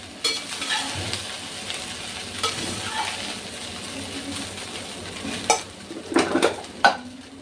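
Rice is stirred into a hot pan with chili flakes, giving a steady soft sizzle under scraping of a spatula, with a few sharper clinks of utensil against the pan toward the end.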